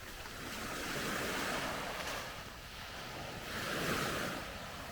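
Waves on a black sand beach wash in and recede in slow swells, a broad rushing surf with wind noise, fairly faint and with no voices.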